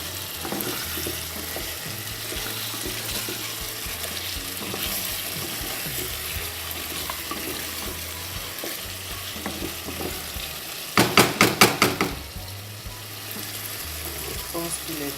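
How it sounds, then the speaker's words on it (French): Spinach and tomato sauce simmering and sizzling steadily in a pan, a continuous close crackle with soft stirring scrapes and a brief burst of sharper clatter partway through. "ça a bien mijoté, vous voyez, ça a bien mijoté."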